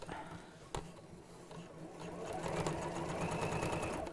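A sewing machine runs a short backstitch across the end of a drawstring bag, its close, steady motor whir rising after a brief pause with quick needle clatter.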